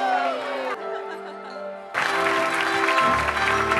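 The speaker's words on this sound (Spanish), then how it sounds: "Fuerte su aplauso para recibir a nuestro comandante" Audience on a cruise ship welcoming the captain aboard the Monarch: after a stretch of quieter murmuring, dense applause breaks out and swells, filling the room steadily until the end.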